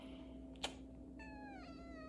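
A cat gives a short rising-and-falling meow, clear against a steady low hum inside an aircraft cabin, preceded by a brief click.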